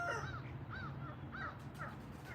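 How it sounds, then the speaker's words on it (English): Birds calling from a tree, a series of harsh, crow-like caws repeating about every half second over a steady low background hum, moderately near and fairly loud. "I think it's the little birds in the tree flying around making noise"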